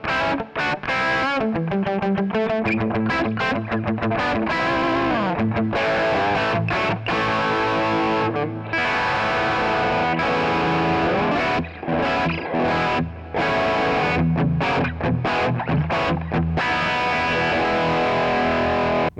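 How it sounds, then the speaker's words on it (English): An electric guitar runs through a Kemper Player modeling a Vox AC30 amp, playing a loud, driven, chiming riff with rhythmic strummed chords and short pauses, alone with no talking. "Here's a Vox AC30. This is a great sounding one."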